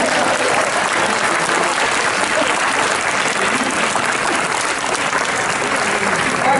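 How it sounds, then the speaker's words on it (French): An audience at a public prize-giving ceremony in Marseille applauds with thick, continuous clapping that stays loud and uniform throughout. "Un peu d'applaudissements."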